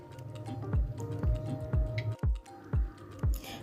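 Grated tomato is dropped into a pot of soaked chickpeas, giving a series of about seven soft, wet plops and squishes at a regular pace, close up.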